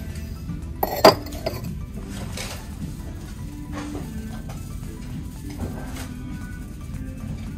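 Small ceramic berry bowl and saucer clinking together as they are picked up in a Target store, one sharp bright clink near the start followed by softer handling knocks amid quiet shop ambience.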